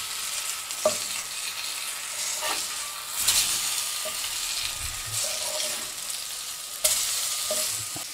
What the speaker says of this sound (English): I'm gonna fry the rest of this.